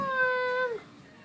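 A cat lets out a single drawn-out meow, close and clear, that falls in pitch at the end and then fades into quiet room tone.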